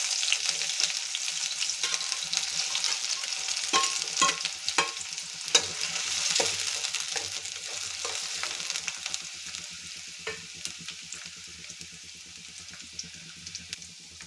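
Chopped onion frying in hot oil with mustard seeds in a kadai, a continuous loud sizzle with crackles and occasional stirring scrapes, easing slightly toward the end with no talking.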